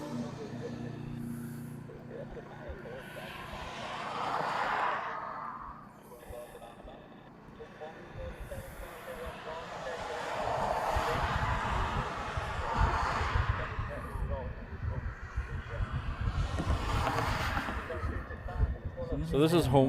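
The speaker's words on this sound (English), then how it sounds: "So this is United coming in from LAX." A United airliner arriving from LAX during sunrise plane spotting in Hawaii, its engine roar swelling and fading in broad waves over about twenty seconds, with a voice talking over it.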